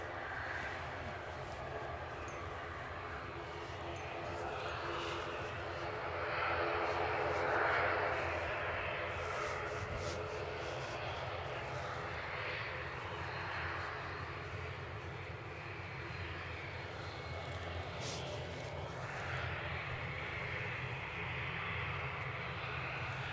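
British Airways airliner departing Edinburgh Airport, a steady jet engine roar at moderate distance, rising slightly midway and holding on, with no clear talking.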